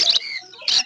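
Budgies at a rainy-day bird market at Uluberia give two bright, close chirps less than a second apart, with a thin warbling tone between them.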